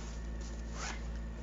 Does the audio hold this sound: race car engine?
no